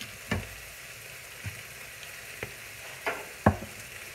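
Food browning in a pan for a croziflette, a faint steady sizzle with a few soft clinks and taps of a utensil scattered across a few seconds, no talking.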